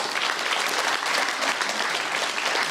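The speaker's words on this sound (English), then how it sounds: "a huge round of applause for our donors" Audience at a guide dog graduation applauds the donors, a full, even roar of many people clapping together, sustained without breaks and with no speech over it.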